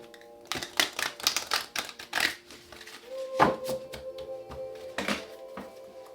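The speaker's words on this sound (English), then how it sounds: "One more shuffle." Rapid riffling tarot card shuffles, several quick bursts of papery flutter and taps, close by with no talking.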